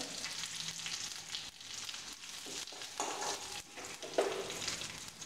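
Curry leaves and asafoetida frying in hot oil for mint rasam, a soft, fairly quiet crackling sizzle broken by a few stirring clinks.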